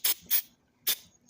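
Contact cleaner sprayed onto an embroidery machine CPU board from a Melco EMC10T, four short sharp hissing bursts in quick succession, fairly close.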